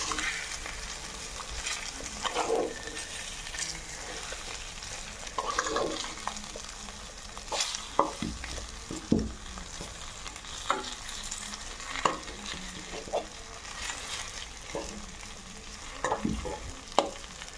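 Fish pieces frying in oil in a pan, a continuous crackling sizzle with intermittent sharp clicks and scrapes of a utensil turning the pieces, close and steady with no talk.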